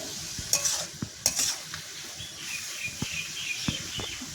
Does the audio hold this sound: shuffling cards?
no